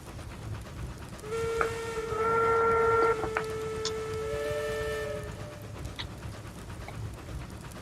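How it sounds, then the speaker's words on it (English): Train whistle in the railroad game Railroads Online, a sustained chord-like tone of a couple of seconds that fades to a thinner lingering note, heard at moderate distance over steady ambient noise with no talk. "I hear a whistle."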